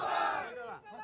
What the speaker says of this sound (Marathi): नागपूरमध्ये मोठी गर्दी केलेली आहे।